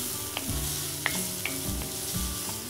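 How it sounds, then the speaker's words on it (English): Onions and garlic sweat in a pan over medium-low heat, a steady soft sizzle running throughout, broken by a few light scrapes and clinks of a spoon stirring. "Give that a little stir"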